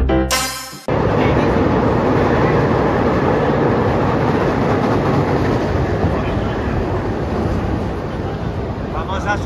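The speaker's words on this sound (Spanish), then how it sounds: "Vamos a subir al tren elevado de Chicago." Chicago elevated train running on its rails, a loud steady roar with rattling rumble filling the whole stretch after a sharp burst at the start, heard up close.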